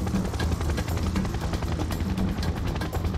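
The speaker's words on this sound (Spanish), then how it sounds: "Ya acá aparecían esas mugres de helicóptero." Enemy helicopter in the video game Serious Sam 3: a loud, dense, continuous rotor roar mixed with rapid bursts of gunfire and clatter.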